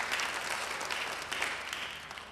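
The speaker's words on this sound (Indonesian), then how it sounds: "Beri tepuk tangan yang baik buat dia" A church congregation at an Indonesian sermon claps together, a fairly faint but steady patter of many hands lasting a couple of seconds.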